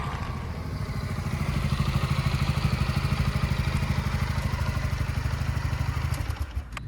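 A 2023 Honda Forza 350 scooter engine runs at a close, steady, rapidly pulsing idle that swells slightly midway and then tapers and breaks up near the end, with no voices over it.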